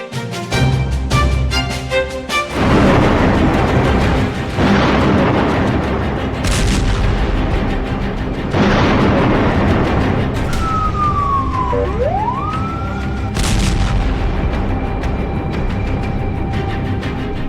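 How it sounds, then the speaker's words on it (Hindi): Heavy booms and blasts from Israeli bombing in Gaza hit in several loud, reverberant impacts, with a wailing siren sweeping up and down between them. Harsh electronic tones sound at the start. "जिस वक्त गाजा की गली गली में इजराइल के बम गिर रहे हैं"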